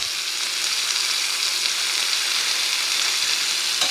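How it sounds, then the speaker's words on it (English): Chunks of beef for pot roast browning in a hot pan give off a steady, close, loud sizzle, a continuous hiss with no voices. "And then you're just gonna go try to brown these up on all the sides."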